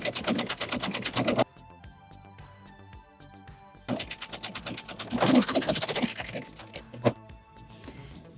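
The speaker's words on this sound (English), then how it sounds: "all we need to do is serge the edge" A serger sewing machine finishes a fabric edge in two bursts of rapid, buzzing mechanical stitching separated by a quiet pause; the second run is longer and fades gradually.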